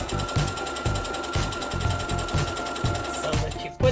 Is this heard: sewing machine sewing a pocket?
yes